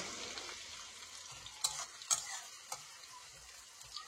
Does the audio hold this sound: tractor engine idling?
no